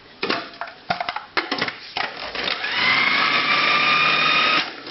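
A food processor chops onions with thyme and beef stock, starting with several short loud pulses, then running continuously with a whirring, slushy grind before stopping abruptly.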